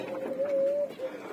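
Pigeons kept in a home loft give a soft, close coo, one drawn-out low call and a short follow-up note.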